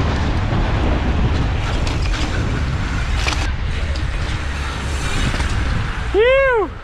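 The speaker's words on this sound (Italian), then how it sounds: "Che vento c'è?" Strong wind blowing across Piazza Duomo, a steady loud broadband rush with buffeting on the microphone throughout, and a brief swooping tone near the end.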